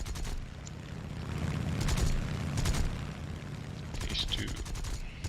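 Aircraft guns fire in short rattling bursts during a War Thunder arcade dogfight, repeated volleys over a steady engine drone, with a voice talking briefly over them.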